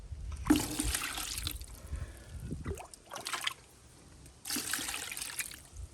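Pond water is poured into a Daiso bucket in several splashing bursts separated by short pauses, close and moderately loud, with no talking.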